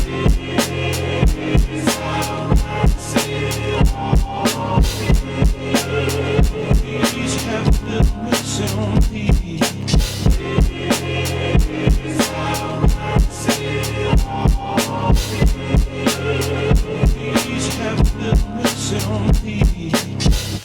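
A punchy programmed drum kit from Addicted Drums presets drives a gritty hip-hop beat built on a gospel sample, with steady, evenly spaced kick and snare hits running loud over layered music throughout.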